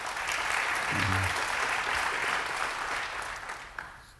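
An audience applauds a speaker at a media panel: a steady wash of clapping fills the room throughout, with a brief voice murmuring partway through and the clapping tapering slightly near the end.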